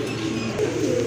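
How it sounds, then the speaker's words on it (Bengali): Afsan grizzle pigeons, a pair kept for sale, coo in a low, steady murmur that fills the whole brief moment at close range. "আরেক জোড়া কবুতর আফসান গ্রিজেল কবুতর"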